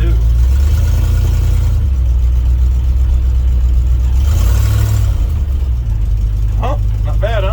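A 1971 Ford F100 Sport Custom, driven for the first time after sitting 11 years, its engine droning loud and steady with low rumble shifting as revs rise and fall, and a brief voice near the end.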